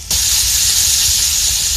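Garlic paste and a little garam masala paste hit hot oil with lightly browned chopped onions, giving a sudden loud, steady sizzling hiss that starts abruptly and holds evenly throughout.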